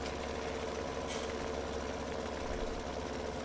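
A tractor engine pulling a plow in Farming Simulator 17 on PS4, a steady, even mid-pitched drone that holds at constant moderate loudness throughout with no talk over it.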